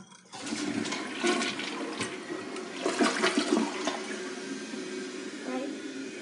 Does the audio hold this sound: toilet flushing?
yes